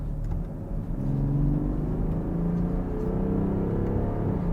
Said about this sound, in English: you can actually hear an actual difference of the exhaust system